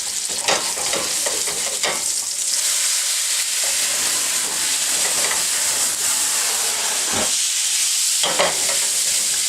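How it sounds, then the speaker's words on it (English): Food sautéing in a hot pan with brandy, a loud continuous sizzle and hiss with occasional stirring and tossing knocks, close and without talk. "We're going to give them a little toss, and we're going to add a little bit of brandy to this."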